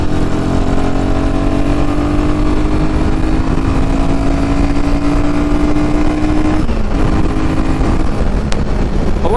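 A Royal Enfield Himalayan 450 motorcycle cruising on a highway, with a steady, loud engine drone and heavy wind rush. The note rises smoothly, dips briefly at a gear change, then carries on with no talking.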